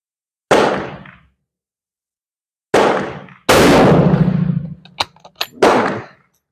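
Shots are fired with a Portuguese Vergueiro rifle while testing loads at a range. They come as sharp, loud, close cracks at irregular intervals with decaying tails, and a few smaller clanks and pops sit between them.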